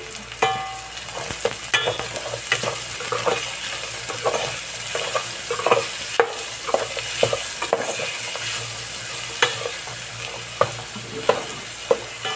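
Onions frying in a pan for pork dinuguan give a continuous close sizzle and crackle, broken by frequent sharp clicks and scrapes as they are stirred, steady and fairly loud with no voices.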